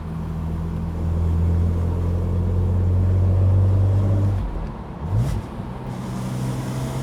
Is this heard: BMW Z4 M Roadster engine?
yes